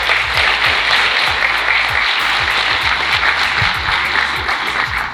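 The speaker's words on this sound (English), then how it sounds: "Give yourselves a round of applause, please." Sustained applause from a large audience, steady and dense clapping filling the room without a break.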